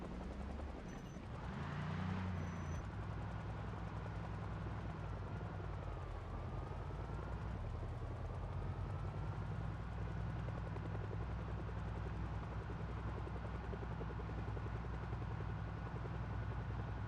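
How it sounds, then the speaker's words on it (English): Helicopter flying overhead in a zombie video game, a continuous heavy rotor thrum and engine drone with a brief burst of sharper noise near the start, holding steady throughout with no talk. "Later, the helicopter will become annoying again."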